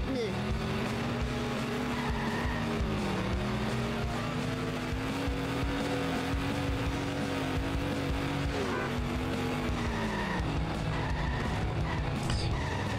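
A car in The Simpsons Hit & Run on PS2 drives with a steady engine drone that rises and dips, plus occasional tire skids, running throughout under game noise.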